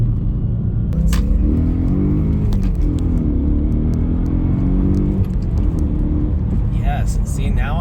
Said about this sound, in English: now I actually hear the engine versus just the exhaust in the back